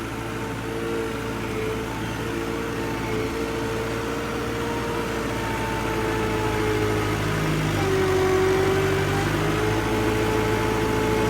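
A steady, droning Deutz-Fahr tractor engine idles continuously at an even pitch, close and unchanging throughout, with no smoke or strain.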